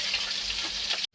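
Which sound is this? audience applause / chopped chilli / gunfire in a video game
chopped chilli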